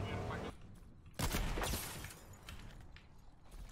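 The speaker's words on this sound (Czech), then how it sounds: "To někdo po mně střílí." Gunfire in a video game: sharp bursts of shots crack out loud over a constant noisy game background, the heaviest volley about a third of the way in, then fading to lighter rattling.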